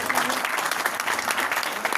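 An audience claps loudly for the leadership at an Amway business opportunity presentation, a dense, steady burst of many hands throughout with no voices over it.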